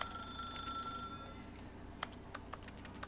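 A telephone rings in The Stanley Parable video game, a thin electronic trill repeating for about a second, followed by faint scattered clicks of keyboard typing at low volume.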